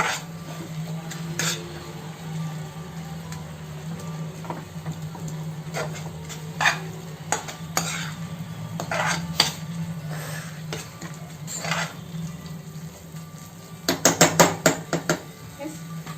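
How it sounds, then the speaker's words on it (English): Beef curry masala with onion, tomato and spice paste being fried and stirred in a pot, village style: a metal spoon clinks and scrapes against the pan at irregular moments, ending in a quick burst of clattering strokes. "Fry it for about 2 to 3 minutes so that all the masala items get mixed up with the onion, tomato and the spices paste"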